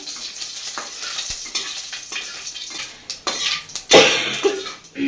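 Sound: dried red chillies and mustard seeds sizzling in hot oil

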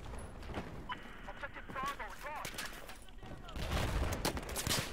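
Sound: gunfire in the video game Battlefield 4

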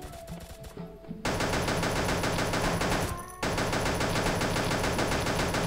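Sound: flame gun firing in the video game Pixel Gun

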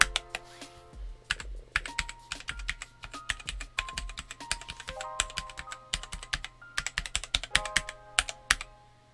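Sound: pressing keys on Cherry Xtrfy K5 Compact gaming keyboard

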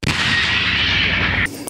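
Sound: Leopard 1A5 tank gun firing canister round

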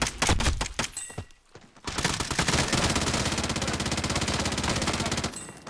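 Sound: gunfire in video game Warzone battle royale

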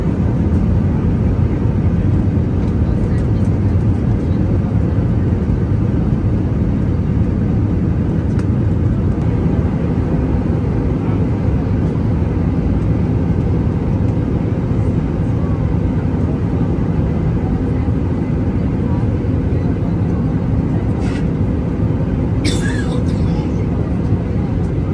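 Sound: Vistara airliner cabin noise while descending to land at Hyderabad

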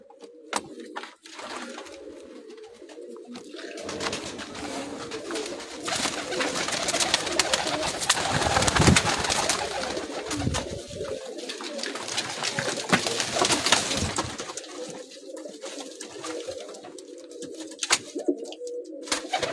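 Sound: breeder pigeons cooing

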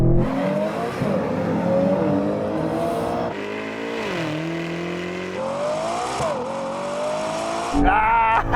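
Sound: Ferrari Purosangue accelerating in a race

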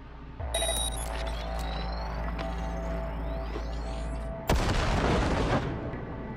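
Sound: grenade explosion in video game Cyberpunk 2077

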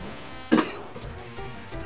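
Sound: coughing

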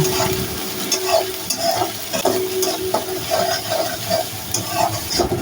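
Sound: onion and green chilli frying in oil

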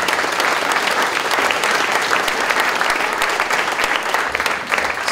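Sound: audience applause

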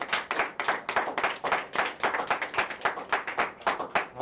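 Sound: audience applause

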